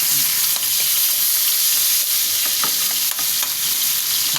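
Pieces of chicken for a curry sizzle loudly in a hot pan while being stirred, a dense continuous frying hiss with occasional scraping of the utensil against the pan.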